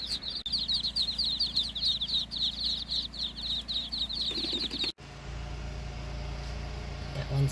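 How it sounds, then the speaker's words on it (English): Baby birds and ducklings behind a fence at a barn build, with rapid high chirping and cheeping repeating through most of the stretch, then a sudden cut to steady low rumbling noise. "You can see the baby birds on the other side of the fence."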